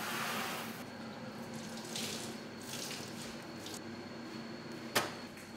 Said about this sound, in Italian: Questo è malto d'orzo tostato, reidratato, quindi è polvere, noi mettiamo acqua.